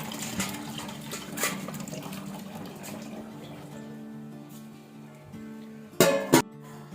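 Water runs from an outdoor tap into a bucket for bathing, a steady moderate splashing flow that thins toward the end before a couple of sharp clanks.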